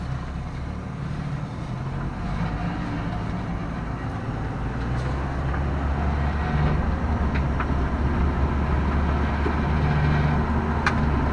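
A revived 1965 Plymouth Savoy, back on the road after 19 years, drives along with a steady, loud engine and road rumble and tire noise that continue unbroken, with no talking.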